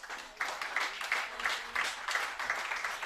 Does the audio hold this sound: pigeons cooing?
no